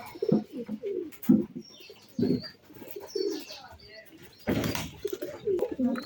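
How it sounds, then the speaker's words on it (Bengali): Pigeons coo in soft, repeated bursts under a cloudy sky, close by, with brief chirps and a thump partway through. "আমার কবুতরগুলো একটু আপনাদেরকে দেখাই"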